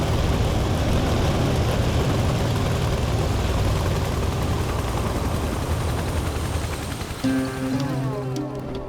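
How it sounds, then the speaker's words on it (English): A battered Soviet Mi-8 twin-turbine helicopter, smoking and belching flame, roars loud and close as it flies, with a steady dense engine and rotor drone throughout and a few tonal whines near the end. "A smoking, flame-belching, banged-up-looking Soviet Mi-8 twin-turbine chopper"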